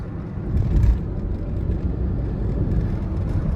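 Steady road traffic on the Delhi–Dehradun expressway, a continuous broad rumble of passing cars and vehicles with a slight swell early on, heard from inside or beside a moving car with no talk.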